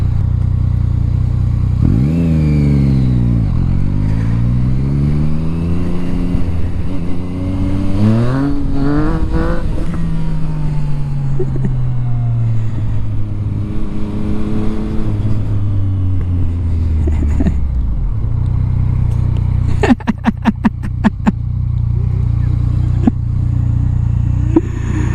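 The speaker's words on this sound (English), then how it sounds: "First gear power wheelie. Not safe." A motorcycle pulls a first-gear power wheelie, its engine note climbing in repeated rising revs, dropping back, then surging again with some mechanical clatter, loud and close throughout.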